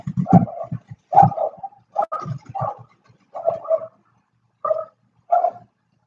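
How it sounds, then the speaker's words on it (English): Several dogs bark in short excited bursts, loud and close, with uneven pauses between volleys and a few yips mixed in, indoors during a livestream. "my dogs went fucking nuts for a minute."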